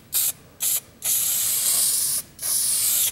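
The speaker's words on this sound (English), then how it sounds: "Spray glue it." Short bursts of aerosol spray glue hissing onto drywall tear-away bead, two quick puffs followed by longer sustained sprays with a brief pause between them, close and fairly loud.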